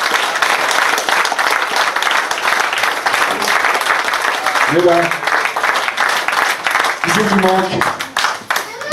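Loud, steady audience applause at an agricultural fair, dense clapping that carries on throughout while someone speaks over it on a microphone.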